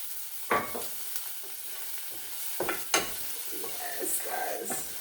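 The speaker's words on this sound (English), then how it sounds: "I'm going to add some fine chop, 1 clove of garlic and half of chopped onion into our pot" Garlic and chopped onion fry in oil in a pot, giving a soft steady sizzle broken by a few louder clatters of stirring and the pot being handled.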